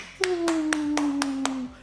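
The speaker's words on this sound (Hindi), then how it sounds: "तालियां," Six sharp claps ring out at an even, deliberate pace while a steady sustained tone glides slowly downward underneath; no one talks over them.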